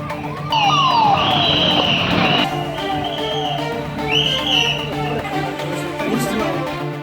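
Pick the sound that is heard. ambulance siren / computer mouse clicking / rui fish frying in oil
ambulance siren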